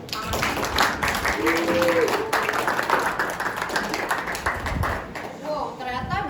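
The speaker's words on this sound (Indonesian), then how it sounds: "Boleh kita beri tepuk tangan." An audience applauds a panelist at a high school panel discussion on women's struggles in the workplace, steady clapping for several seconds with a voice speaking over it near the end.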